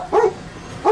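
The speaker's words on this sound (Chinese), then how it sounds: "店里的小狗狂吠" A small dog inside a pharmacy barks furiously, with two sharp, loud barks close by separated by a short pause.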